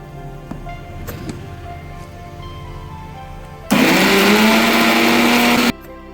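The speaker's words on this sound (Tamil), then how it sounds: "ஒரு 2 ஐஸ் கட்டி இருந்தால் போட்டுட்டு மிக்சியில் அரைச்சிக்கலாம்" An onion chutney being ground in a mixer grinder: after a few seconds of quiet kitchen noise, a loud, steady motor whir starts abruptly, runs about two seconds, then cuts off.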